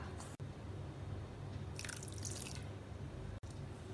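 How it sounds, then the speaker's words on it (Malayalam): Small drips and splashes of water fall onto potato and water chestnut flour dough, quiet and close, with a low steady hum underneath. "ഞാൻ കുറച്ച് വെള്ളം ചേർക്കുന്നു"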